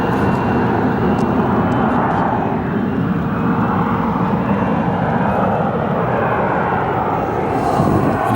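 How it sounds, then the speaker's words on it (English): An Embraer E-175 jet airliner passes at Phoenix Sky Harbor Airport, a loud, continuous engine roar holding steady throughout. "Here comes that E-175"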